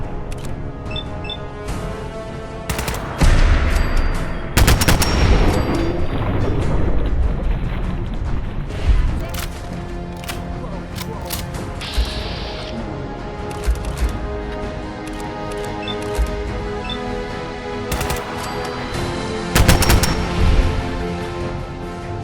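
Gunfire in the video game Fallout 4: sharp, booming shots land in irregular bursts, some close together and others spaced apart, over a continuous game backdrop.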